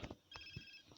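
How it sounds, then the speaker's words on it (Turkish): Phone ringing inside the game GTA San Andreas: a quiet electronic ring with a few short tonal bursts over faint game background, no talking. "Telefondan bizi biri arıyor."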